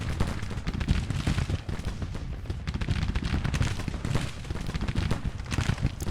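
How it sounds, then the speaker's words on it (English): Artillery firing canister shot in a Civil War strategy game battle, dense overlapping booms and crackling gunfire forming a continuous loud barrage with no clear gaps, no talk. "Hopefully we can get these artillery guys to get some canister here."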